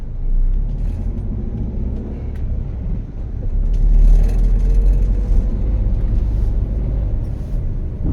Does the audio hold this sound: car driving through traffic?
yes